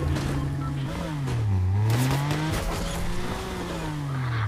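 A car engine drones and shifts pitch as the vehicle drives in a shooter video game, a steady mid-level motor tone with rising and falling revs, while players chatter over it.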